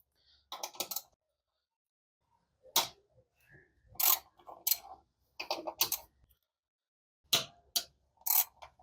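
Twelve-millimetre bolts are worked off a 2009-2014 Honda Jazz/Fit City throttle body, heard as close bursts of ratcheting clicks and metallic taps separated by quiet pauses, with no speech.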